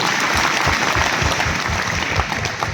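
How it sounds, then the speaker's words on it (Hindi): An audience at a school event applauds students and teachers, producing loud, dense, continuous clapping that fills the hall without pause. "उन सारे बच्चों के लिए और उन टीचर्स के लिए भी एक बार जोरदार ताली बजाइए।"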